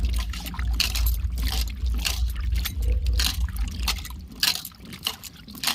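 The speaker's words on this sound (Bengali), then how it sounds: "ভীষণ বালি ভালো করে না ধুলে হবে না" Small potatoes are rinsed by hand in water to wash off heavy sand, with continuous close sloshing, swishing and trickling under a steady low rumble.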